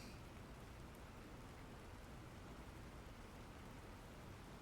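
Steady rain falling in the survival game The Planet Crafter, a dense, even hiss that holds constant throughout with no talk over it.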